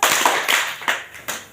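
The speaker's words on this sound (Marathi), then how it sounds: "दोन टाळ्या वाजवा." Hands clap in a children's group activity at an anganwadi, four sharp claps spaced irregularly in pairs, close and loud, with no voices.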